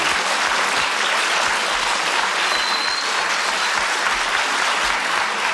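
Studio audience of a 1973 television game show applauding a contestant. Dense, steady clapping fills the room at full volume, unbroken from start to finish.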